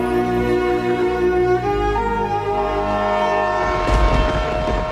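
At a railway station, a loud, sustained train horn sounds in a steady tonal blast, shifting pitch once midway, while wheel and carriage rumble rise underneath toward the end.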